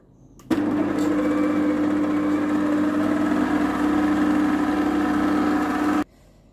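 An electric mixer whirs steadily as it beats vanilla cupcake batter with sugar, a loud continuous motor hum that starts abruptly and cuts off cleanly after several seconds.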